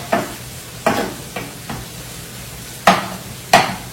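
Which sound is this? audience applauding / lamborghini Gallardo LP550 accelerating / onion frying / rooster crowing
onion frying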